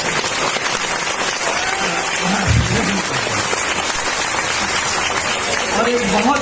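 Audience at a business meeting clapping, a dense, steady patter of many hands throughout, with a voice speaking briefly over it.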